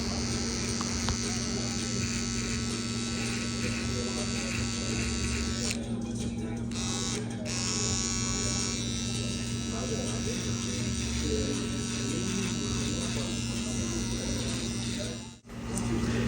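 Hair trimmers buzz steadily and close throughout a drop fade haircut, running under a continuous mains-like hum with occasional light movement as the clippers work near the guideline.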